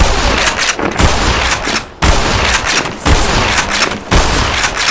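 Enemy soldiers in the video game Black Mesa fire their guns in dense, continuous bursts, loud rapid gunfire with a few short gaps and no talking.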